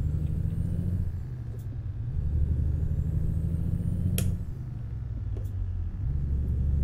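A Volvo VNL truck engine in American Truck Simulator, hauling a Midland dump trailer, rumbles low and steady, its pitch dropping and rising as it shifts, with a couple of sharp clicks on top.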